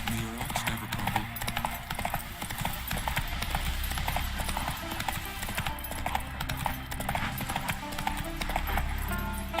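Roach the horse gallops in The Witcher 3 with rapid, rhythmic clip-clopping hooves close up, set over a soft musical bed and ambient game sound, with no clear speech.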